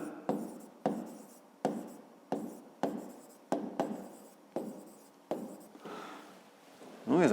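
A pen scratches across paper while a math exercise is worked out, quiet close strokes in about nine short bursts with brief pauses between them, each burst fading before the next.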